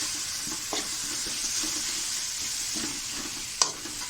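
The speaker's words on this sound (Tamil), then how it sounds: "போட்டுட்டு இது நல்லா கலக்கி விடுங்க" Mushroom gravy masala sizzles steadily in a pan while a spoon stirs it with soft scrapes, closing on one crisp clank of utensil on metal. The sound is near and continuous, with no voices.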